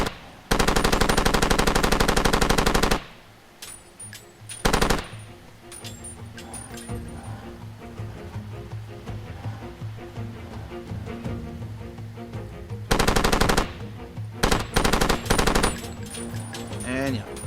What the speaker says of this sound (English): If we press the C key, we have a nice mounted gun.